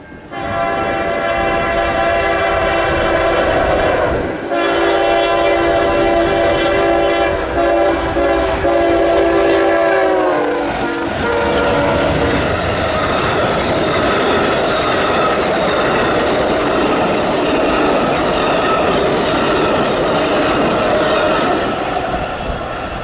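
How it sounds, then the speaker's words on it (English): The northbound Amtrak Floridian passenger train passes at Gary's Pine Junction, a sustained loud horn over rolling wheel roar, then the horn cuts off and heavy rail noise with some wheel squeal carries on, no voices. "The most unfortunate train I've ever seen, the northbound Amtrak Floridian."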